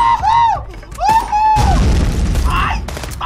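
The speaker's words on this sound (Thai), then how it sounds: "โอ้โหระเบิดอีกแล้ว" A loud explosion from the police game Contraband Police, arriving as a broad, booming burst that rumbles on for well over a second after whooshing effects and mixed with gunfire-like pops.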